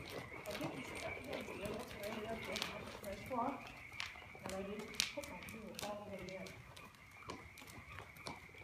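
An Arabian horse cantering, its hooves giving a soft, rhythmic drumming beneath a voice coaching the rider close by.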